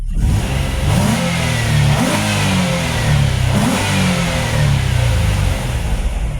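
A Nissan Altima engine revving loudly and accelerating on a test drive, pitch rising in waves as the gears shift, close and continuous.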